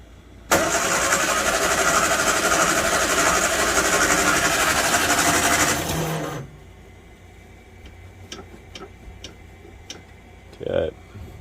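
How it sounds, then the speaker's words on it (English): The worn starter on a 1959 Morris Minor Traveller woody station wagon cranks the barn-find engine in one loud, continuous grinding whir for about six seconds, then cuts off, leaving quiet ticking and faint background sounds. "we are ready to see if this old starter's got another few cranks left in it"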